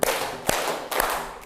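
A classroom of students claps three times in unison during a call-and-response clapping game, evenly spaced sharp claps roughly half a second apart, loud and close with a bit of room ring.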